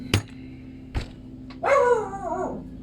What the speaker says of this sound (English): Gizzy, what are you barking at?